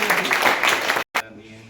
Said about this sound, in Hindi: तो उनके लिए तालियों का अभिवादन करना